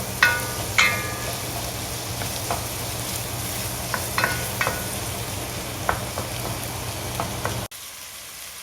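Garlic and onion sauté in a hot pan, a steady close sizzle with scattered sharp spatula clicks and stirring scrapes, then the sound drops away abruptly near the end.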